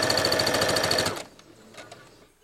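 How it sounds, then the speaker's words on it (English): A sewing machine stitches a quilted tote bag, running in a loud, steady fast burst for about a second before stopping abruptly, leaving quiet handling noises behind. "and I start sewing, and I back stitch, and then I keep sewing, making sure everything is nice and lined up"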